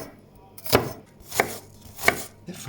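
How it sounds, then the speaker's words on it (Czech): Knife chopping half an onion finely on a board: three distinct close, crisp chops spaced evenly about two-thirds of a second apart, with no talking. "Teď si nakrájeme půlku normální cibule."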